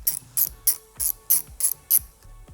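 A ratchet on the clutch lever pivot nut of a 2021 or later Yamaha MT-07 gives seven crisp, evenly spaced clicking bursts, close and loud, with no voices.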